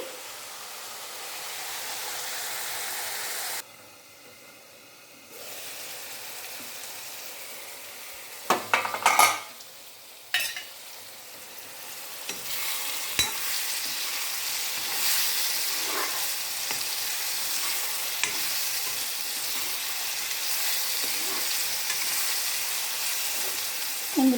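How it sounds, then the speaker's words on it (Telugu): Eggplant pieces sizzle and hiss steadily in a hot pan, broken by a few clattering stirs and scrapes of a utensil, with a brief lull early on before the frying noise resumes at a constant level. "చాలా తొందరగానే వేగుతాయి ఈ వంకాయలు"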